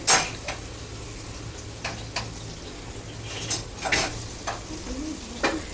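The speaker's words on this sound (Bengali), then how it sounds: "এখনও রান্না শেষ হয় নাই মশলা কষানো হচ্ছে" Spices being sautéed and stirred in a pan, with a low steady sizzle under repeated scraping and clinking strokes of a utensil against the pot at irregular intervals, close by and moderately loud.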